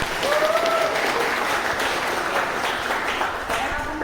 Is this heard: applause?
yes